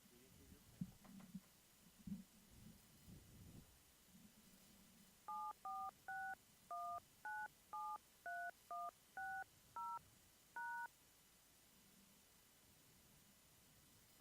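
Telephone keypad DTMF tones entering a PIN on a phone line: about ten crisp, evenly spaced beeps in a steady run, following a few faint low knocks, with quiet line hiss throughout.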